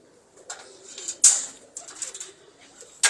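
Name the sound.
pigeons cooing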